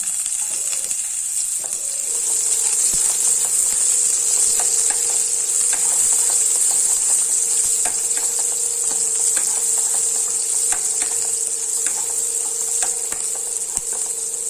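Vegetables with onion stir-fry in a pan for veg fried rice, giving a steady, close sizzle with occasional scraping clicks from stirring throughout; no one speaks.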